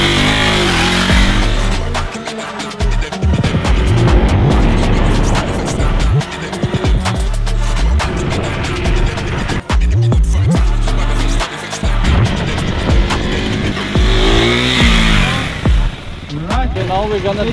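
A 2024 KTM Duke motorcycle, traction control off and in supermoto mode, is pushed through drifting corners on a track. The engine roars loudly and almost continuously close by, with tire scrub in the turns and people talking over it.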